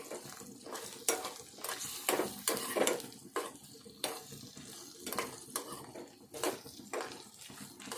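Spices fried and stirred in a pan for an eggplant and onion chili dish: a steady soft sizzle broken by repeated scraping strokes of a spoon against the pan, close and moderately loud, with no talking.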